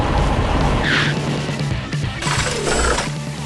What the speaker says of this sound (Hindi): एक विशाल लाल दमकल गाड़ी अपनी वीरता दिखाते हुए स्टेशन से बाहर निकलती है और पुल को पार करती है